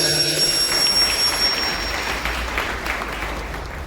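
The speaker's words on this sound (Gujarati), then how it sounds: "ધન્યવાદ કરીશું. જોરદાર તાળીઓ સાથે" A college Mother Language Festival audience claps in a dense, sustained round of applause that fills the hall evenly, loud and continuous before gently tapering off.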